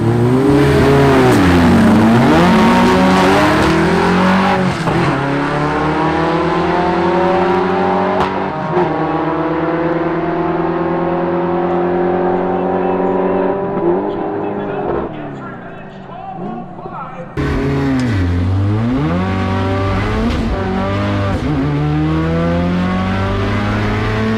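Loud car engines rev and accelerate hard during a drag race, with rising and falling engine pitch that drops out briefly near the end and then returns.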